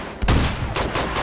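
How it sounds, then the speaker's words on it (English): Rapid gunfire from the video game Uncharted 2, a loud burst of shots crackling in quick succession with a brief lull and then another volley, no voices. "What are they shooting at?"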